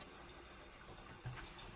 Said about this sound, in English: Turn the water on, get our hands wet,